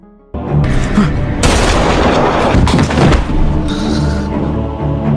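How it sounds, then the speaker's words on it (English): Gunfire in a film scene breaks out as sharp, loud shots and booming blasts in quick bursts, with tense ambient sound filling the gaps between them. "Jimmy ends Danny's life by shooting him."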